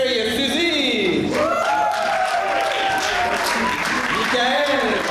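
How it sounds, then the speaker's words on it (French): Improv show audience applauding and cheering loudly as performers are welcomed on stage, with a host's voice or shouts carrying over the clapping throughout. "accueillir et applaudir avec un maximum de bruit les mauves"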